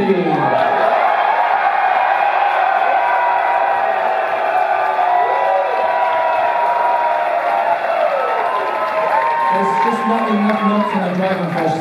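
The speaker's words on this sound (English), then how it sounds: "A really fucking loud Houston, Texas cheer for the amazing one and only super shredder" A loud Houston concert crowd cheers and whoops steadily for a guitarist, a continuous roar of many voices filling the hall without a break.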